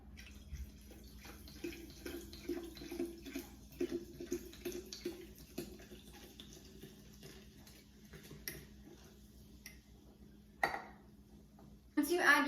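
Sparkling water poured from a whole bottle into a non-alcoholic mint julep punch with orange slices, giving a soft splashing and fizzing trickle with light clinks of glass, fairly quiet, ending in a louder splash.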